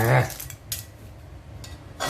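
Metal utensil clanks sharply against a wok a few times after stir-frying clams with chili paste, close up, with short pauses between the strikes.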